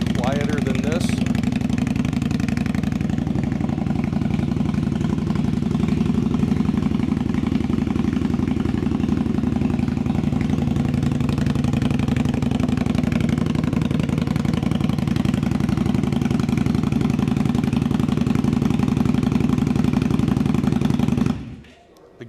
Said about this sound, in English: It's a very nice sounding motorcycle.